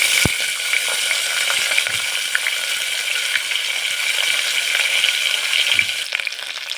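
Soaked peas frying in oil in a pan for fenugreek pulao, a steady bright sizzle with a few soft clinks of stirring, close and loud, no voices.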